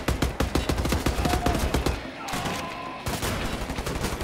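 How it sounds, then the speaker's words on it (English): Rapid rifle gunfire in the shooter game Wolfenstein: The New Order, dense bursts of sharp shots with a short pause midway before firing resumes, loud and close. "Switch to my rifles. Put some grenades. And then open fire and blitz the rest of them."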